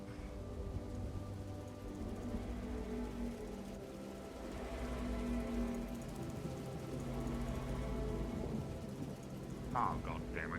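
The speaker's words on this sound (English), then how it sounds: "the rain's back" Rain falls in the fantasy video game Dragonspire, a steady, even hiss of downpour running the whole time over low, droning game music, with a brief brighter patch near the end.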